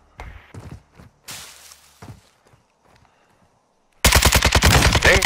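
Rapid automatic gunfire from a shooting video game bursts in loudly near the end, a dense stream of close shots after quieter scattered footsteps and thuds.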